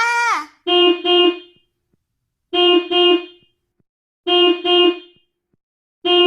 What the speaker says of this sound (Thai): ต้องบีบแตรรถให้ดังที่สุด และบีบไปเรื่อย ๆ จนกว่าจะมีคนได้ยินแล้วมาช่วยเรา